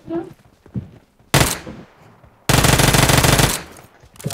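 Gunfire in PUBG on the Sanhok map: faint noises first, then a sharp single shot and a close, loud rapid automatic burst lasting about a second.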